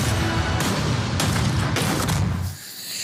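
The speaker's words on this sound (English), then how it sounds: "At the sounds of the gunshot" Several loud gunshot-like bangs burst out in quick succession, harsh and booming over dense noise, before dropping away near the end.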